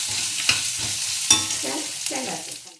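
Roasted grated coconut sizzles lightly in a hot pan for a chutney, with a soft continuous frying hiss broken by a few sharp scrapes and clinks as a spoon stirs it close up.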